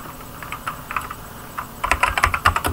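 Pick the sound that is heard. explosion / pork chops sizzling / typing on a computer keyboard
typing on a computer keyboard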